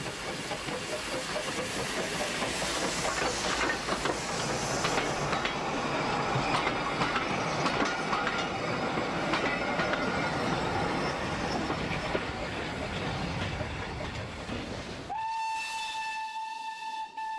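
A 125-year-old British steam locomotive running, with a loud, steady hiss and rumble of steam and rolling wagons that ends abruptly in a sustained, clear steam whistle.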